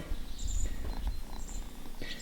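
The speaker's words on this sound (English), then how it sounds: "Hear her purring" A steady, low rumbling purr from a cat close by, continuous throughout with a few faint chirps and rustles.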